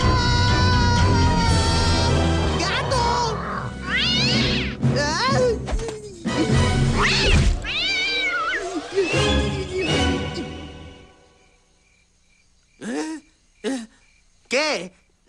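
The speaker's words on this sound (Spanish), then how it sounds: "¡Gato!" Drawn-out, wavering cat meows and caterwauls in an animated Spanish-language cartoon, layered over music and effects at first, then several short, sharp meows standing alone near the end.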